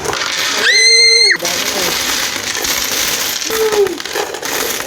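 One-peso coins pour out of an opened piggy bank in a short, loud metallic clatter, followed by scattered lighter jingles as the pile settles.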